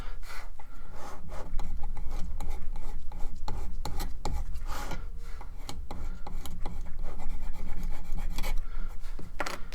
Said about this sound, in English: So we're filing that off, getting a nice flat spot, no lube grooves.